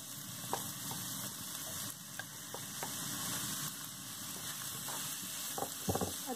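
Ginger and garlic sauté in a frying pan for an egg gravy, a steady broadband sizzle throughout with a few sharp spatula clicks and scrapes near the end, close and moderately loud with no talking.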